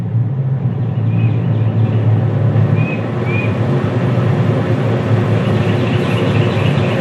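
A loud truck passes outside, its heavy low rumble swelling and filling the scene for several seconds, with a few faint chirps above it.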